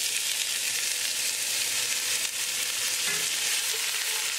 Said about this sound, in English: now we're going to add onion